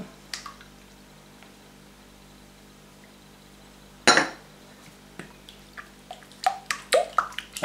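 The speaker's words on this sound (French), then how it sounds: "on va battre un petit peu les œufs" Beaten eggs and cream being mixed in a bowl, with scattered utensil clinks and scraping that build into a quicker run of sharp taps against the bowl toward the end, close and fairly quiet.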